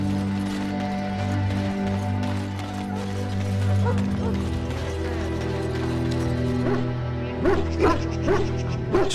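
War hounds in Dragon Age: Origins bark in a few sharp bursts toward the end, set over a sustained droning musical background.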